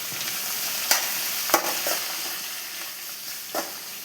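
A spoon stirs onions frying in a pan for a Tamil dried-fish curry. Steady close sizzling is punctuated by a few sharp scraping strokes against the pan, with no voices.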